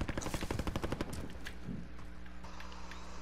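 Rapid bursts of automatic gunfire ring out in Call of Duty Warzone during a battle royale match, a loud rattling volley at the start that fades into a quieter wash of game ambience.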